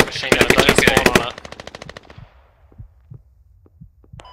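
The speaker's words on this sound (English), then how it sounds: "The FOB's getting watched by a light machine gun, don't spawn on it." Light machine gun firing in the video game Squad, a loud rapid burst of close automatic shots that stops abruptly, followed by scattered faint distant thuds and a few sharp clicks.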